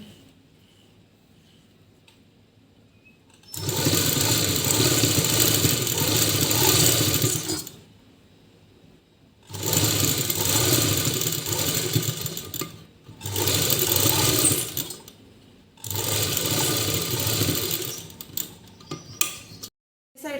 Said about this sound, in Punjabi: ਆਪਾਂ ਬੁਕਰਮ ਦੇ ਨਾਲ ਨਾਲ ਇਸ ਤਰ੍ਹਾਂ ਉੱਪਰ ਲੇਸ ਰੱਖ ਕੇ ਜਿਹੜੀ ਸੀਨ ਲਾ ਰਿਹਾ